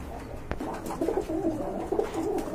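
A pair of Sapchila pigeons at a pigeon market coo in low, repeated throaty phrases, close by, with a sharp click early on and faint background murmur.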